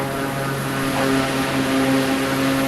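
A steady, loud aircraft engine drones in a flight simulator game during a landing approach. Its constant propeller-like hum carries strong tonal layers and doesn't change throughout.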